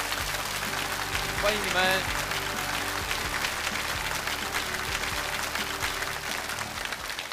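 A studio audience applauding to welcome six remote guests onto a lecture-show stage, dense sustained clapping throughout, with a host speaking briefly over it.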